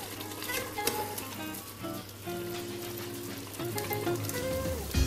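Beef BBQ boti masala sizzles and crackles steadily in a pan as it is fried, with occasional stirring scrapes and light clinks over the constant hiss.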